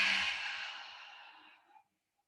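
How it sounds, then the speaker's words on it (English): A deep exhale during a yoga core-strengthening session, a single long, breathy out-breath that starts strong and trails off into silence within about two seconds. "Breathe deeply."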